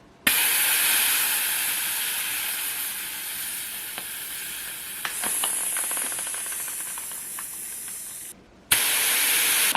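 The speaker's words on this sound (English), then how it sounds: "we're gonna let the air out and get this thing going" Air hissing out of a carbon fiber 50mm bicycle wheel's tire, a loud steady close-up hiss that cuts off briefly near the end and resumes, with faint crinkly clicks mixed in.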